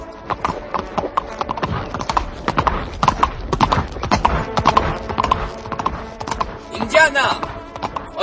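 Horse hooves clip-clopping in a steady trotting rhythm, close and fairly loud, with a whinny near the end and people talking in French over the hoofbeats.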